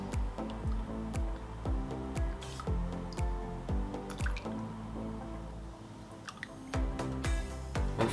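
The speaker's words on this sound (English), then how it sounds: "to serve, we're just going to ladle into the bowl" Thick vegan spiced butternut squash soup is ladled into a bowl, giving soft wet plops, drips and gentle clinks of the ladle repeating close up throughout.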